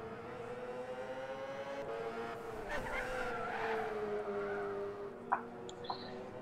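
A Lexus GT300 race car laps a Gran Turismo endurance race, its engine droning steadily at a fairly low level with a brief tire squeal and a couple of sharp clicks near the end.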